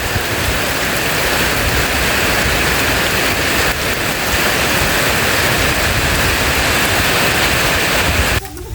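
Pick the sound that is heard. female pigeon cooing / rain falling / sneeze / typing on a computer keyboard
rain falling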